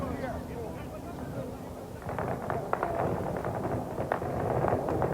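Gunfire at the Ostankino television centre in Moscow during the October 1993 clashes: a rapid, irregular run of sharp cracks and pops starting about two seconds in, fairly distant and continuing over steady background noise and voices.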